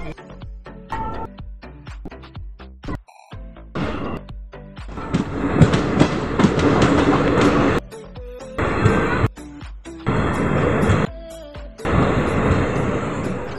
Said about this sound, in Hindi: फाइनली एक सेकंड के हॉल्ट के बाद अपनी ट्रेन निकल चुकी है